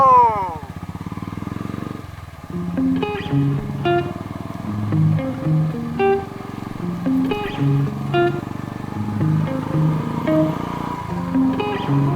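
A Royal Enfield 350 motorcycle rides along a road, its engine running steadily throughout, with a rider talking over it and melodic tones layered on top.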